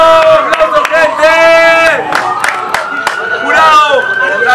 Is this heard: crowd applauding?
yes